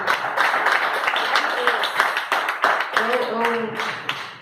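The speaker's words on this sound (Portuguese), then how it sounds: "aplauda o nome dele, porque ele é santo" A church congregation clapping in praise during a worship service, continuous dense applause with a speaking voice carrying over it.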